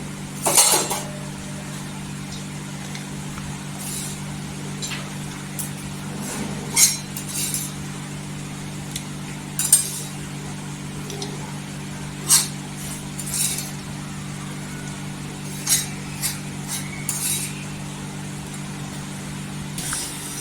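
A metal spoon scraping and tapping chilli thecha (kharda) onto a plate, giving sparse light clinks and scrapes spaced every second or two over a steady low hum, close and clear.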